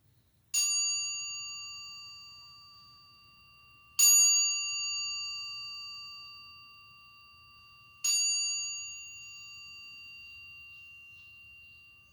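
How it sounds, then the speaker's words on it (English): A mindfulness bell is struck three times at even intervals of about three and a half seconds. Each bright, clear tone rings out and slowly fades in an otherwise quiet room. "I will start with the bell and end with the sound of the bell."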